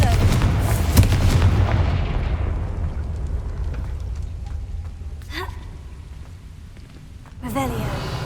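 A Confringo fire spell fired in the Hogwarts Legacy video game: a heavy booming blast at the start that rumbles and fades over several seconds, then a second burst near the end, with no talk.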